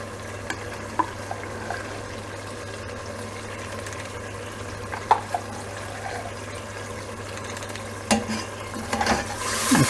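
Ginger garlic paste fries in a pot for Karachi chicken biryani, a steady sizzle running throughout while a spoon stirs and occasionally scrapes and clinks against the metal, close and without talk.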